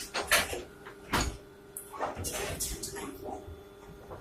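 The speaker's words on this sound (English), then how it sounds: "Those doors are so fucking sensitive." Lift doors at an office building, OTIS cars modernised with KONE MMR equipment, bump and slide open and shut in a few short thuds and rumbles, with people talking over them throughout.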